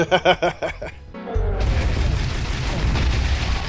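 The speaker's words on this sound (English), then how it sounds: "it sounds so awesome when you kill the guys. They just explode into guts." Enemies bursting into gore in the Brutal Heretic RPG first-person shooter: a rapid series of loud booming thuds, then a sustained crashing, rumbling wash of splattering impacts.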